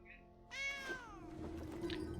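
A house cat meows once nearby, a clear falling call that stands out over low background hum, followed by a fainter short sound a moment later.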